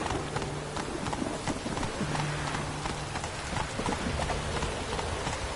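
Roach, a horse in the video game The Witcher 3, gallops in a rapid, continuous drumming of hooves, close and steady throughout.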